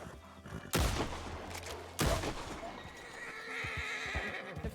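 Two sharp gunshots ring out in the Red Dead Redemption 2 (RedM) video game, loud and close over a busy western scene with horses neighing and hooves clopping.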